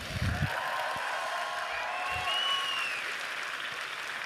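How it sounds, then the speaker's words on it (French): Steady applause from a crowd after performers at a Disneyland Paris conference, sustained and even throughout, with a few faint voices mixed in. "Encore un grand bravo à tous les performeurs, applaudissements."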